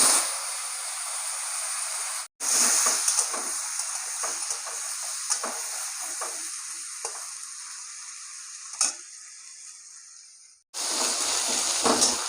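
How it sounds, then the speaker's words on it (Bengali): Potatoes fry with turmeric in hot oil in a wok, giving a loud, steady, close sizzle with faint stirring scrapes. The sizzle pauses briefly twice and then returns just as strongly. "এই আলু কটা ভেজে নেবো।"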